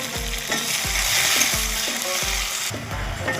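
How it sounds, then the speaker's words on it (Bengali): Sliced onions frying in a pan after bay leaf and cumin, a constant bright sizzle with rhythmic knocks of a spoon stirring against the pan every half second or so. "পেঁয়াজগুলো তো লাল লাল করে ভেজে নেব।"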